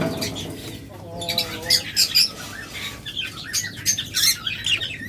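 Budgerigars at a bird dealer chirp and tweet in quick, bright bursts, several birds calling near and fairly loud over a low background hum.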